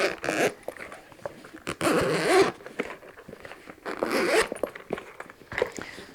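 A zipper with rubber pulls is drawn open on a large Telfar pill box bag in several quick, close rasping strokes with brief pauses between them.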